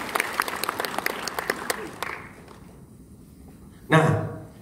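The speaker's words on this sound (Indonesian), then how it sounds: "Yang setuju tepuk tangan." An audience at a business presentation claps in a quick burst of scattered, close applause that fades away, followed by a short loud burst of sound near the end.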